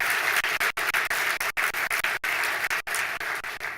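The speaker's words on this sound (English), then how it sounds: "Let's give a round of applause to Governing Magazine" An audience at a government performance conference applauds Governing Magazine, a sustained broadband patter of many hands broken by several abrupt brief dropouts, with no voices over it.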